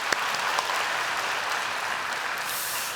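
Sustained applause from a large church youth congregation, dense and even clapping lasting the whole stretch at steady volume.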